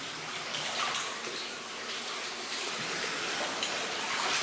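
Water sloshes and splashes continuously at close range as someone wades through a flooded tunnel, a broad churning wash with small surges and no talking.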